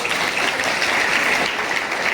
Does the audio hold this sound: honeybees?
no